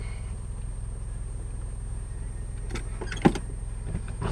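Steady low engine and road drone from inside a moving car with a radiator problem, a constant rumble with a faint tonal whine and a brief click or thump near the end.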